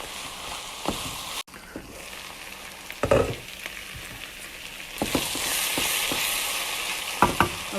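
Beef and onion mixture cooking in a pan, a low steady sizzle broken by several spoon scrapes and clinks, growing louder toward the end, without speech.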